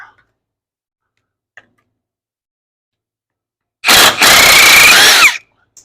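Impact gun with an 18 mm socket loosening a lower control arm bolt on a 2000 Buick LeSabre, one loud, close burst of rattling hammering lasting about a second and a half after near silence.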